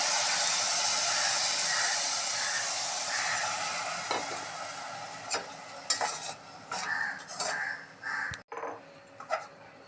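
Soaked rice being stirred together with coconut milk and salt in a pot, a steady sizzling wash for the first half giving way to scattered scrapes and clinks of a spoon against the vessel.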